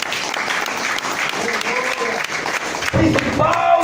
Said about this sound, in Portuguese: Quem pode aplaudir o nome do Senhor Deus?